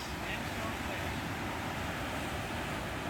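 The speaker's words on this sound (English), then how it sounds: "And we love watching the waves coming in, striking these rocks." Ocean surf rolling in and breaking against lithified sandstone cliffs on a Hawaiian coastal hike, a steady, loud wash of rushing water with wind noise and no distinct individual wave crashes.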